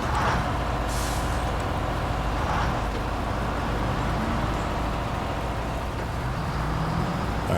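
Truck air brake hissing in the SnowRunner driving game, near an old Ford F750-style truck, a steady broadband hiss and rumble over continuous engine and road noise for the whole stretch.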